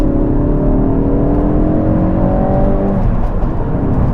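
A Ford Focus RS accelerates hard to overtake, its engine note loud and close, climbing steadily in pitch for about three seconds before easing off.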